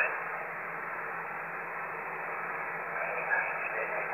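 A Yaesu FT DX 5000 receiver pours out a steady, dense hiss of band noise and static, continuous and fairly loud throughout with no clear voice.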